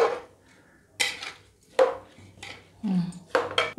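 Peas pulao being stirred in a pot, a Bengali basanti-style rice dish, with a spoon scraping and clinking against the metal in several separate strokes and short pauses between them, close and fairly loud.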